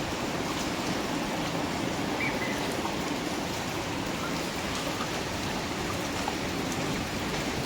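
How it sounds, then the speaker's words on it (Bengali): Rain that has been falling since before dawn patters steadily outside, an unbroken wash of drops with no voices and no other sounds. "ভোর রাত থেকে শুরু হয়েছে বৃষ্টি।"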